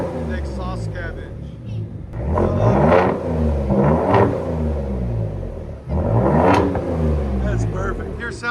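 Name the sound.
pickup truck X-pipe exhaust revving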